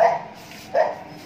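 Two short dog barks on a city street in Delhi in the middle of the night, the second a little louder than the first, each heard alone over a faint background hum.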